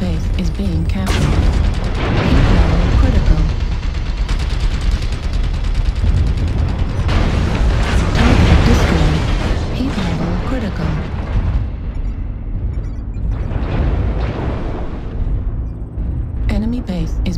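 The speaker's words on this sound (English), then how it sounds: "Warning, incoming missile." Missile explosions and heavy booms in the MechWarrior game Mad Cat, rumbling dense and loud over continuous battle noise, with a synthetic cockpit voice speaking warnings over the din.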